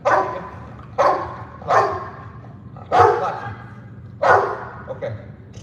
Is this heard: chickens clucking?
no